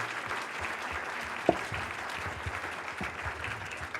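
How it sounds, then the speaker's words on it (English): A town hall audience breaks into steady, broad applause, a dense wash of many hands clapping at moderate distance, with one sharper clap standing out briefly. "Can we give Ellen and all the people that made this event a success today a big round of applause?"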